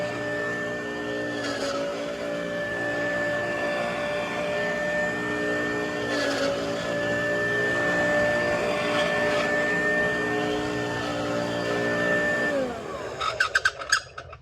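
A White Westinghouse hand vacuum runs steadily with a whining motor tone that dips in pitch a few times, then winds down near the end, followed by a few clicks and knocks.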